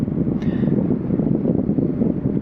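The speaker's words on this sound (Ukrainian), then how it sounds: "Катер повертається" Steady low engine rumble of a motor boat returning to an Adriatic Sea port, with wind buffeting the microphone, continuous and fairly loud, no voices.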